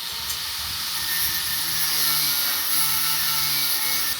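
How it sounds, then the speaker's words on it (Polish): A new angle grinder runs continuously on a house construction site, a loud, bright, hissing whine that holds steady and close throughout with no voices. "Nowa szlifierka."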